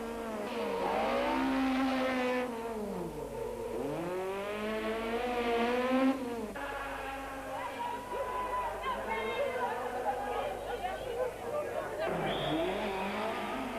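A Ford rally car at the 1993 Algoa Rally uses sheer horsepower to wheel spin around bends. The engine revs loudly, climbing and falling in repeated sweeps with tire squeal, while a narrator talks over it.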